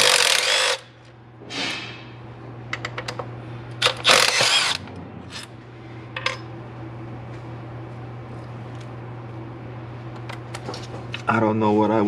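A power drill whirs in short bursts and clanks against metal while a throttle body is removed from a Whipple-supercharged Shelby GT350, with tool and parts clatter close by and no talking.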